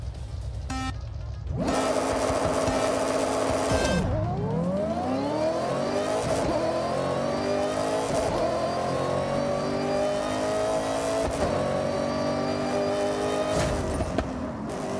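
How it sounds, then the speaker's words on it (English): Race car engine in Forza Horizon 6 revving hard with no one talking, its pitch climbing steadily through several power shifts made without lifting the throttle. Each gear change brings a brief dip before the rising whine builds again, loud and continuous. "I'm gonna power shift. I'm not gonna lift off the throttle."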